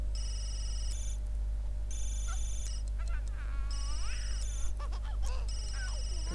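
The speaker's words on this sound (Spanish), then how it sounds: "Responde al teléfono." A telephone in The Sims 3 video game rings in repeated electronic bursts with short gaps, over a steady low hum and a voice talking between the rings.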